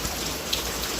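Heavy rain pours down in Bangalore as a loud, dense, steady hiss of drops, unbroken throughout, with no voices.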